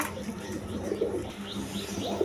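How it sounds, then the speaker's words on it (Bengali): Gorra and Rajgolla pigeons, including American Lakkha and silver birds with squabs, coo softly in a farm loft. Low, repeated coos come from several birds at once over a steady background murmur. "একদম কোয়ালিটি সম্পন্ন কবুতর।"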